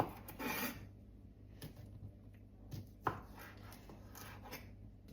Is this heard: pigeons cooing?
no